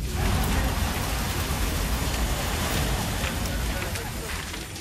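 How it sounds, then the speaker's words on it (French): Firefighter's hose jet spraying water onto a fire during Paris fire brigade training, a loud, continuous rushing hiss that holds steady and tapers slightly near the end, with a voice talking over it. "Et là, on se rend compte que l'impulsion, ça éteint direct le feu."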